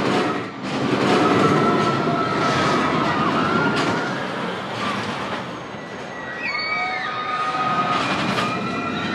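A roller coaster train, five cars long, rumbles and clatters along the track with steady mechanical noise, high metallic squeals and whines rising over the roar, at Six Flags Over Georgia.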